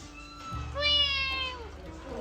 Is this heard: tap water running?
no